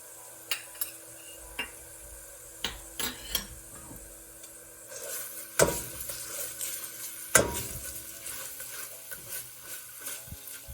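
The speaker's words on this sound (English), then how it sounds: "add in the Thai red curry paste and saute with the oil for 30 to 40 seconds" Thai red curry paste sautés in oil in a pan, a soft low sizzle punctuated by intermittent sharp scrapes and clinks of a utensil against the pan, with no talking.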